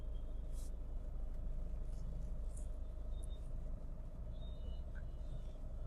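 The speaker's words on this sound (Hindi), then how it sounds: "थोड़ा सा ट्रैफिक हल्का फुल्का" Light road traffic in Lucknow forms a continuous low rumble of passing vehicles, fairly distant and even, with a few faint high chirps and clicks on top and nobody talking.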